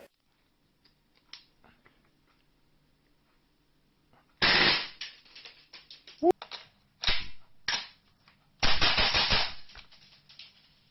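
A Tokyo Marui M4 gas blowback airsoft rifle on green gas fires several short full-auto bursts, close and crisp, separated by pauses and light mechanical clicks.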